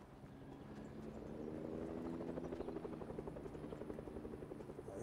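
A helicopter in the Fortnite video game whirs with a steady, pulsing rotor chop that builds slightly and holds at a moderate level, alone without talk.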